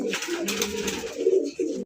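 A fancy racer pigeon coos up close, soft throaty rolling notes in a couple of short bursts, quiet and alone.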